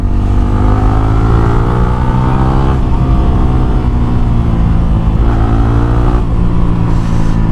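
A loud motorcycle with an aftermarket exhaust revving continuously, with rising and falling pitch and a deep throaty rumble, heard up close on a quiet road with no talking.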